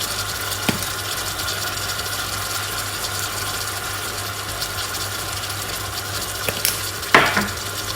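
Creamy chicken pasta being stirred in a pan, a steady low sizzle and scraping running throughout, with a few brief clinks and a louder utensil knock near the end.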